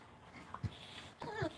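A puppy gives short whimpers and a couple of faint yips while trying to get another dog to play, soft and fairly close in a quiet room, with two brief higher-pitched cries.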